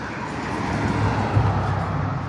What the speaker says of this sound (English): it's a little noisy from the traffic